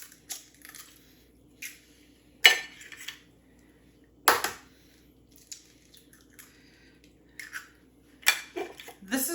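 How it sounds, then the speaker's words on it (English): Eggs cracked one after another into a bowl for a crustless veggie quiche, giving sharp close taps and clinks against the rim at irregular intervals, with soft sloshing between them and no talk. "So I'm going to go ahead and crack my 8 eggs right into the bowl."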